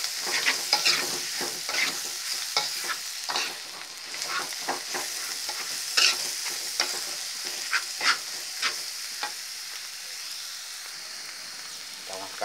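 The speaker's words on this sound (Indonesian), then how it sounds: "kita aduk-aduk" Cassava leaves fry in a pan while being stirred repeatedly, producing rapid scraping and rustling strokes over a continuous hissing sizzle, close and loud, with the strokes easing toward the end.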